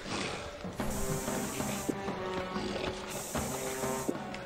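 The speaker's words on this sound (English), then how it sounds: "I'm gonna spray the shit out of myself, yo" Hissing bursts of a health spray aerosol in Alone in the Dark (2008), two long sprays separated by a short pause, over a low game ambience with scattered faint clatter.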